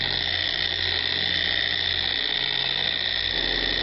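A dual action polisher spreads wax on a Corvette, giving off a steady, loud, high-pitched motor whine with a constant hum underneath and no pauses.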